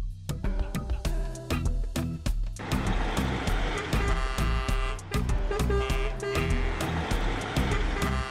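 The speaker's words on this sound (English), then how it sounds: "Bus." A bus drives past with repeated sharp horn toots and a steady engine rumble, all loud and close, with clattering hits scattered on top.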